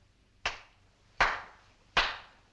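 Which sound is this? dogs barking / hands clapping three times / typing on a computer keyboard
hands clapping three times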